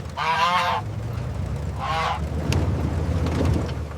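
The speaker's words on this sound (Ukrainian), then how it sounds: "і гусак наш Вася сьогодні молодець, спокійно сидить" A domestic goose honks twice nearby, each call a loud, harsh, buzzing burst lasting about half a second, separated by a short pause over a low background hum, with faint rustling afterward.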